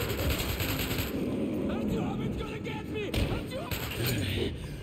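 Gunfire in the Metro 2033 video game, rapid bursts of shots crackling over game ambience with someone talking excitedly over them.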